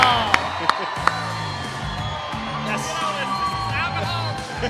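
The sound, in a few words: live crowd cheering for a podcast guest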